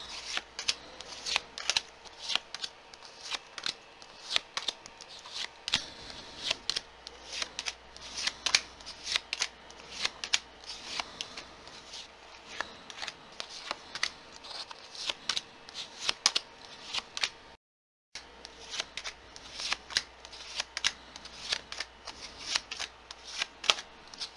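Tarot cards being shuffled by hand, close and fairly loud, with a steady run of quick riffling snaps and flutters broken by a brief silence near the end and no talking.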